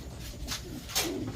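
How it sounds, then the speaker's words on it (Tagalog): Racing pigeons coo softly in a loft, giving two or three short throaty calls over low background noise. "Kinuha na ni Superbook yung mga ibon natin sa taas."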